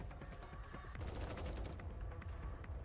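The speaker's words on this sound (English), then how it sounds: "Mass-produced Nikke's open fire on Dorothy" Mass-produced Nikkes in the game Goddess of Victory: Nikke fire a dense fusillade, a rapid stream of overlapping gunshots that grows heavier after the first second and keeps going, loud and close.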